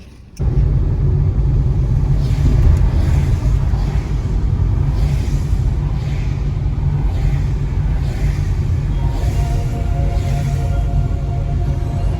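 A car drives along in Halifax, Canada, its engine and road rumble a steady, loud low drone that starts abruptly and holds for the whole stretch, with no talking.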